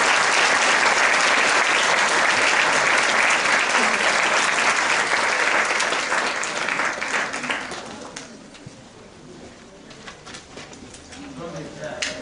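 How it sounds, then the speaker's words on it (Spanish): Audience at a lecture on a unified penal code gives sustained applause that stays strong for about seven seconds, then fades out into quieter room sound. "Quiero, por favor, que recibamos con un aplauso, como se merece, nuestro agradecimiento al doctor Enrique Díaz Aranda."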